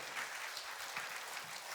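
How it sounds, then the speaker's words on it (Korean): Brief, faint applause from a church congregation during a sermon, a steady patter of clapping at low volume with no voices standing out. "박수 쳐주지 않으시겠습니까,"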